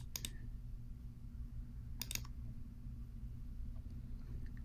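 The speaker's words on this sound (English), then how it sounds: "which I can do by clicking on this orange dot and moving it slightly to the left" A computer mouse clicks twice, each a quick double click, crisp and close, over a steady low hum of fan or room noise with no talking.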